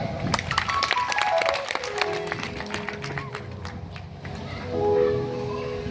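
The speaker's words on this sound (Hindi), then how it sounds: "तो हमारी तरफ से अपने लिए एक बात ताली बजा दो।" A seated audience at a Ram Katha religious discourse claps in a quick, scattered burst that thins out after a few seconds, with a voice and tonal sounds mixed in.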